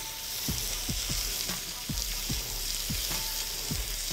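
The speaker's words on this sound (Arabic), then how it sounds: "هنزل الاول باللحمه، اديها تقليبه حلوه كده" Beef sizzles steadily in a hot pan while a utensil stirs it in quick, regular scrapes about twice a second, all close and with no talking.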